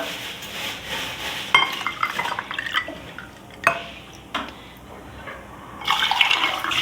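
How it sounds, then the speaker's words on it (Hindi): Mint lemonade sharbat with lemon slices is poured into glasses, giving liquid splashing and trickling with a few glassy clinks and taps, close up and fairly loud, with no talk. "प्यारे से गिलासों में डालती हूँ मैं।"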